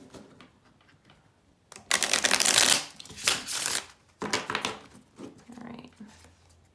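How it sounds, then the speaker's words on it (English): A deck of tarot cards is shuffled in several bursts of riffling and tapping, close and crisp, separated by short quiet pauses. "These cards are so awkward for me to shuffle"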